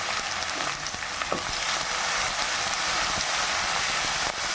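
Brinjal and onions frying in a pan for Chidambaram kothsu, a loud, steady close-up sizzle with a few faint stirring scrapes and no talking.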